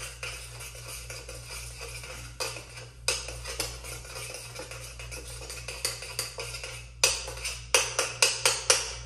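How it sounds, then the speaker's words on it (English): Braciola stirred in a pan over medium heat: quiet, repeated metallic clinks and scrapes of a utensil against the pan, growing into a quicker clatter near the end over a low steady hum. "You can just stir it around whenever the spirit moves you."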